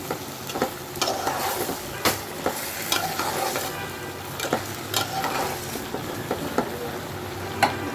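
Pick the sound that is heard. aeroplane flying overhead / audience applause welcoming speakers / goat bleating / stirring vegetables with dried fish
stirring vegetables with dried fish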